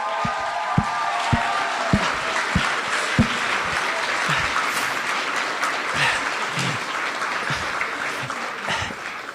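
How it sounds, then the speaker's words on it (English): A theater audience claps warmly for the cast and performers of a stage show, sustained applause filling the room with a few louder individual claps standing out near the mic. "Can we have one more round of applause for the amazing cast and performers?"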